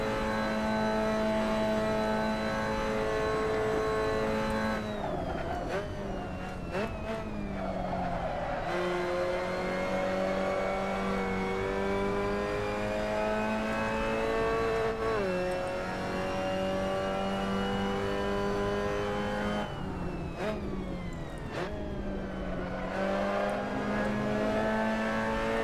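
Mazda MX-5 Cup race car engine in a sim racing game, loud and sustained, revving up through the gears with rising pitch and dropping on shifts, other cars' engines drafting close alongside.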